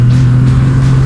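A Triumph motorcycle at full throttle, rear wheel drifting, gives a loud, steady engine roar with a deep, constant drone for a brief moment.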